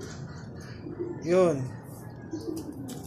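A single pigeon coo rises and falls in the middle, moderately close, while someone speaks briefly over a quiet outdoor background during pigeon training.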